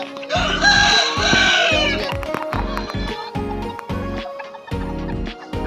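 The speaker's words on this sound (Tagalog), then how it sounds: "Ipapakita po namin kung paano po kumain yung stag namin." A young gamecock stag eats among other fowl; rhythmic pecking and clucking sounds repeat steadily, with a rooster crowing loudly early on and a voice speaking now and then.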